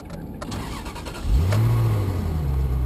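A few clicks, then a Ferrari 360 Spider engine cranks and catches, roaring up briefly before dropping to a steady, throaty idle close by.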